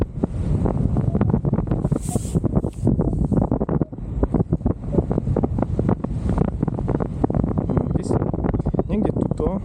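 Strong wind buffets the microphone continuously while ridge soaring a paraglider along a hill, a loud, gusty roar with rustling bursts throughout, under steady talking.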